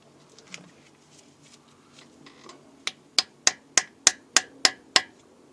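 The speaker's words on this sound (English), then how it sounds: "when you hit it with the hammer it's going to knock it all in evenly" A hammer knocks a needle bearing evenly into the casing during a VW T25 clutch replacement. After faint rustling, eight sharp, evenly spaced metallic taps ring out close by.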